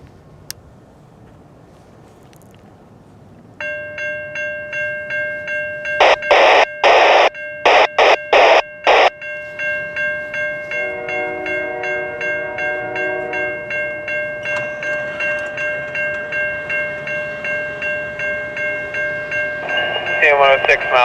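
A long CN freight train of 161 cars passes at a rural road crossing, with loud bursts of horn blasts sounding in a pattern over the steady rumble and rhythmic clatter of rolling cars, with a bell-like ringing tone throughout.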